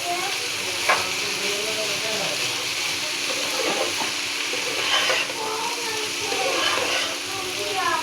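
Boiled bottle gourd fries in a pan with turmeric and salt, a continuous sizzle and hiss with occasional stirring scrapes; a voice speaks briefly over the cooking.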